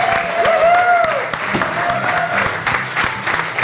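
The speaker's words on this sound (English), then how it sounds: "Hear the roar of the crowd." Studio audience at a country diner show bursts into loud applause and cheers as a guest enters, dense clapping with crowd noise and music layered over it.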